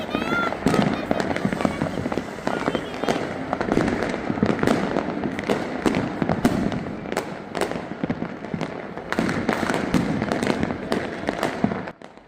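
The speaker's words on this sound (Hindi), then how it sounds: "अभी मैंने एक स्काई शॉट देखा," Sky shot fireworks at a Makar Sankranti celebration, a dense run of sharp bangs and crackling bursts at irregular intervals, with voices faintly audible in the background.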